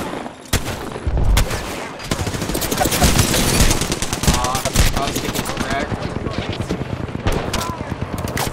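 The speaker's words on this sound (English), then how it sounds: "The enemies are shooting." Enemy gunfire in Apex Legends, a dense and continuous stream of rapid shots and impacts with occasional louder bangs, loud and sustained throughout under voice chatter.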